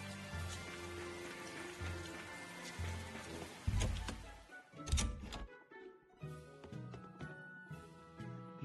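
Rain falls in the video game Tales of Berseria as a soft patter under a low game music score, with a few heavier thuds and a short louder burst midway.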